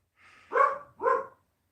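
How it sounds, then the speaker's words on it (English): Two sharp dog barks in quick succession, fairly close, with a faint lead-in whine before them; nothing else around. "hear my dog Charlie barking in the background"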